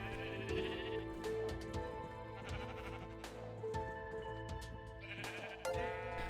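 Sheep in Minecraft bleat repeatedly in wavering cries, steady and fairly faint, layered over game music and sound effects with no talk.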